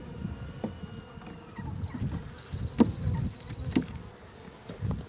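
Honey bees buzzing steadily around an open hive with no queen cell, a dense close hum with a few louder individual bees passing near.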